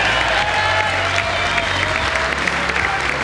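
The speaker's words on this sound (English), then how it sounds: "Give yourselves a round of applause." A large audience applauds at a live V8 Supercars evening show, producing dense, loud, continuous clapping that holds steady throughout, with faint cheering mixed in.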